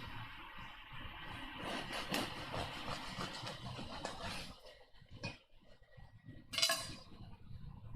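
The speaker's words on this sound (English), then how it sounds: "I'm gonna get some thicker slices for this sandwich" A knife sawing through a loaf of bread for a halibut sandwich, rough scraping strokes close up for several seconds, then a quieter pause and a sharp clink near the end.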